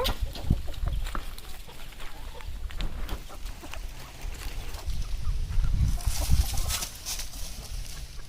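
Free-range chickens cluck and squawk in a home backyard, with scattered near and far calls over a busy outdoor background that grows louder and more agitated toward the end.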